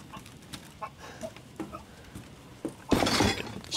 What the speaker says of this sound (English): there's a chicken down there